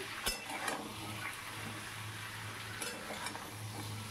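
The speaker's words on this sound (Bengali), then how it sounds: "এবার সমস্ত সবজিগুলো ওলট পালট করে নিলাম। খুন্তি দিয়ে ওপর নিচ সুন্দর করে নাড়াচাড়া করে নিতে হবে।" Vegetables for khichuri are stirred and turned in a hot pan with a metal spatula, a steady sizzle under a few scraping knocks against the pan, close and alone without speech.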